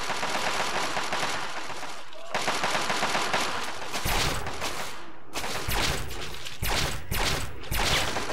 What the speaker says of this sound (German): Okay, da höre ich Schüsse.